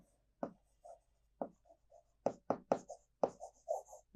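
Handwriting in a physics lesson on transistors: distinct scratchy strokes of a pen or marker, arriving in short bursts with pauses between, close and clear with no talking.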